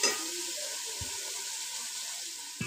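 Lassi and gram flour mixture poured into a pan of cooked masala that has released its ghee, for kadhi pakora: a steady close hiss and sizzle of liquid meeting hot fat, with a couple of soft knocks from the pan.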